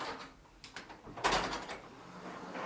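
A Volkswagen car door fitted as an apartment's front door opens with a brief latch click and a soft swinging clunk, close and moderately loud over quiet room tone, with no talk.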